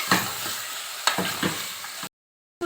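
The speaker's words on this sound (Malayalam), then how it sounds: "ഇത് നന്നായിട്ടൊന്ന് മിക്സ് ചെയ്തെടുക്കാം." Mutton chops in a pan being stirred after a quarter teaspoon of turmeric powder goes in, gentle sizzling with a few distinct scraping stirs, then a short silent gap before the sound resumes.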